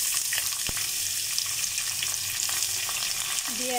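Onions hit hot oil with bay leaves, cardamom, cinnamon and cloves, giving a loud, steady close sizzle throughout, broken only by a single sharp clink partway in and no talking.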